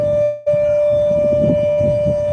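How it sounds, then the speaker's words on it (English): A siren holds a loud, steady unwavering tone that cuts out briefly near the start, then sounds continuously with a faint low rumble and murmur underneath. "listen to the siren"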